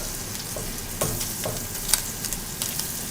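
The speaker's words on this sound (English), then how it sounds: "As soon as our butter finishes melting" Butter melting in a pot on the stove gives a steady close hiss and sizzle with a few soft pops and crackles, and no voices.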